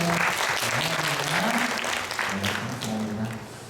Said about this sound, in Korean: 다 박수 한번 쳐주세요.